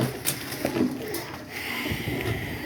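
Large Firozpuri pigeons cooing softly close by, a few low soft coos amid faint rustling, with no talk.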